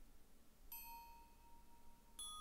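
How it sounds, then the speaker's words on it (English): Chimes from the video game Tunic: a pair of clear, faint bell-like notes, one sustained tone followed later by another, ringing alone over a quiet background. "Let's listen really closely after coming out of the house and resetting the cycle of the chimes."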